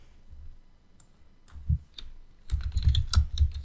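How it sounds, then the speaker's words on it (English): Typing on a computer keyboard while working in SketchUp 2024: scattered key clicks at first, then a quick run of dense keystrokes, close and fairly quiet with no talk. "Let's type something with 3D text."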